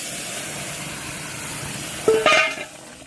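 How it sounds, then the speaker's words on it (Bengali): Soybean curry is poured into a pan of fried onion and spices, a steady low sizzle bursting into a louder hiss and splash for about half a second before easing back. "এখন তরকারিটা ঢেলে দেবো।"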